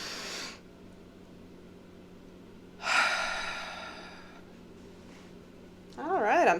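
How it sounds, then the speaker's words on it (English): Several deep breaths during a guided energy-cleansing exercise: a short exhale, a pause, a long drawn-in breath and a slow release, then the start of another, close and breathy against a faint steady hum. "Big deep breath."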